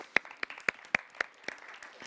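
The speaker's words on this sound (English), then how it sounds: "Let's give a round of applause to Randstad." A sparse round of applause at the Metropolitan Innovation Summit 2022, a few quiet, evenly spaced claps roughly four per second, thin and faint with no voices.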